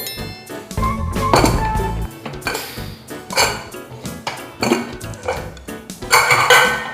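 A pressure cooker of soya chunk biryani being opened and lifted off a gas stove, with loud metallic clanks and clinks of the lid and pot in bursts throughout, close by.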